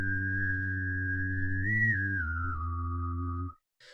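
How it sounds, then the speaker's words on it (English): A single sustained high whistled note holds steady, wavers slightly upward, then slides gently lower before cutting off, followed by a short faint noise. "maybe try a whistle for this one"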